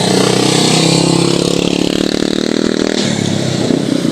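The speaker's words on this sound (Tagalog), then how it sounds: "nandito na yung bike eh" A motorcycle engine runs loud and close in a parking area, a rough steady rumble with rattling clatter that drops to a lower, smoother tone near the end.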